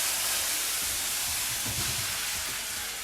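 A splash of water deglazing a hot pan after cooking chorizo and mushrooms for risotto, producing a loud, steady steamy hiss and sizzle that lasts throughout, with light bubbling underneath.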